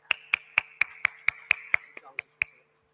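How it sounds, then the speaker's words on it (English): About ten sharp, evenly spaced claps ring out at a conference event, then stop. "Can we have a round of applause"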